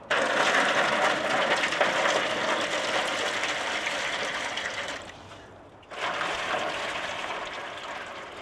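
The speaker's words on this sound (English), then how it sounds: "I want a little hot water in the bottom of these pans that I have down here, some in each." Hot water splashes steadily into the metal water pans of an offset smoker in two pours. A steady gush runs for about five seconds, fades during a brief pause, then starts again for the second pan.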